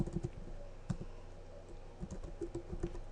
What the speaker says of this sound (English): Now, you can also do this from the command line. So you can type RunAs